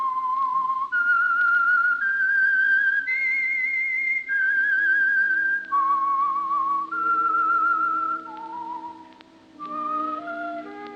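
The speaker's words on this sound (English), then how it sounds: "That whistle is your signal for the Signal Oil program, The Whistler" The radio theme whistle for The Whistler, the Signal Oil program, is a clear solo human whistle that moves through a slow, eerie melody of sustained notes stepping up and down, close and alone with no talking.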